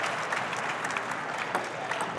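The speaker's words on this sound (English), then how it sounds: "as Wang Hao applauds the first point" Audience applause breaks out after the opening point of a table tennis match between Hugo Calderano and Fan Zhendong, a steady, dense clatter of clapping that fills the hall without pause.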